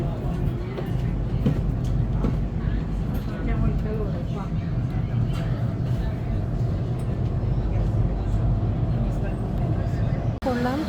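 A passenger train travels between Rome Termini and Marino, heard from on board as a continuous, even rumble of wheels and carriage noise with a faint tonal layer over it.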